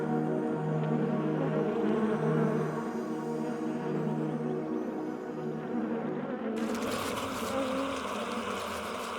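Wasp buzzing in flight as it shuttles between valley, trees and nest while building, a steady droning hum near the listener, shifting to a brighter, noisier texture partway through.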